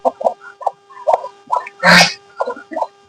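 Free-range farm chickens, including a palace rooster, make a series of short, near clucks and calls at an uneven rhythm, with one louder, harsher squawk partway through.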